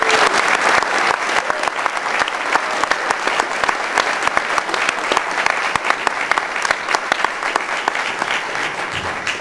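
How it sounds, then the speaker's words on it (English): Sustained, dense applause from a conference audience welcoming a speaker to the stage at a free and open source software event, loud and steady throughout with no break. "please give him a warm round of applause for being with us today"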